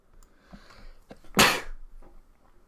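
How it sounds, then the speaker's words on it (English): A single sharp human sneeze bursts out close to the microphone between quieter breathy sounds, loud and brief. "Sorry, I had to sneeze."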